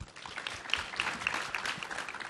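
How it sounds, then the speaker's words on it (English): An audience at a health summit claps for a speaker, a dense, steady patter of many hands at moderate distance, continuing without pause and without talk. "A round of applause for Dr. Cloutier."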